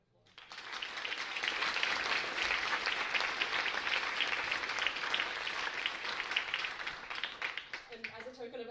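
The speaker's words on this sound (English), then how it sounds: "So can we please give them another round of applause?" A showcase-night audience breaks into applause that swells quickly and holds as loud, dense clapping, thinning out near the end as a voice begins speaking.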